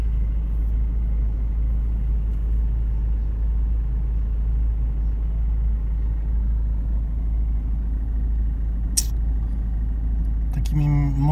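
Steady low car engine and road rumble from inside a vehicle driving in a protest convoy through Berlin, continuous and close, with a brief higher sound near the end.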